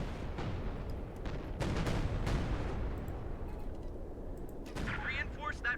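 Gunfire crackles in the Company of Heroes 2 battle, with bursts of machine-gun and rifle shots, some near and some distant, over a constant rumble of combat.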